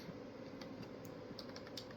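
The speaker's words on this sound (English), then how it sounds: "I'm very hunt and peck on the keyboard" Hunt-and-peck typing on a computer keyboard at a streaming PC, a steady run of soft close key taps over constant background hum.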